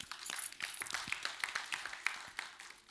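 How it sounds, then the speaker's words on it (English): An audience at a sanitation policy conference claps in a short, scattered burst of applause that is fairly quiet and fades out within a few seconds. "Please give him a round of applause."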